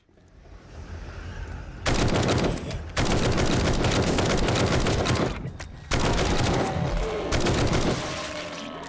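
Assault rifle fire from the 7 Days to Die Undead Legacy mod: loud, dense sustained bursts after a quieter opening, with two brief gaps between long automatic volleys and no talking.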